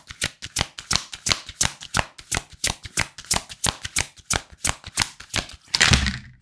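Tarot cards riffled and snapped one after another in a quick, steady run of crisp close flicks, ending in a brief louder shuffle burst.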